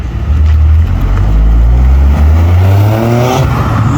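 A car roars past close by at the Webuycars Dome in Johannesburg, its loud engine rumble rising and then shifting in pitch as it passes.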